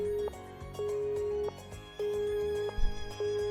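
Phone call disconnect buzz in the Nekopara video game, a flat electronic tone that repeats in evenly spaced pulses with short gaps between them, heard alone and fairly loud.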